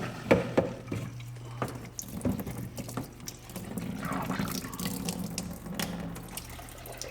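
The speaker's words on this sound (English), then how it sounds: "I've got a 5-gallon bucket of water with a pond pump in it. Got a hose runs up to this nozzle here" Water from a pond pump in a 5-gallon bucket sprays through a hose nozzle at a DIY rinse station, a steady, fairly weak hiss and splash running throughout, close by.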